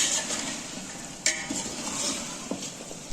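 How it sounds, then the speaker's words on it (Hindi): Ginger garlic paste with salt frying in a pot for a mutton korma, with a faint steady sizzle and a few sharp clinks and scrapes of a spoon against the metal, quiet and close. "नमक शामिल करने के बाद इसको 2 से 3 मिनट पर डीप फ्राई कर लेंगे"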